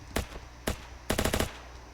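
Gunfire in the war game Ancient Warfare 3: two separate single shots followed by a quick burst of about five rounds, sharp and fairly close.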